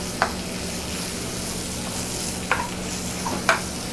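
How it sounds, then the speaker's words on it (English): Sauce simmering in a pan with a steady low bubbling hiss, broken by a few sharp utensil scrapes and clinks as it is stirred, close and moderately loud. "We're going to keep stirring that up and let that simmer."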